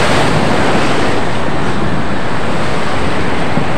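Strong sea waves surging onto the shore along a boulevard seawall during the northeast monsoon, a loud, continuous roar of surf mixed with wind rushing across the microphone, with no voices.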